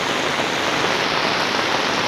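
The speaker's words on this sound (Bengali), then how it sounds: "আজকে সকাল থেকে যে বৃষ্টিটা লেগে আছে সেই বৃষ্টিটা কিন্তু কোনোভাবেই কমার মতো নয়" Heavy downpour pours down steadily and loudly, a dense unbroken roar of rain on surfaces with no voices.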